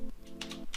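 A few quiet keystrokes tapped on a computer keyboard while entering a spreadsheet formula, soft clicks over a low steady hum.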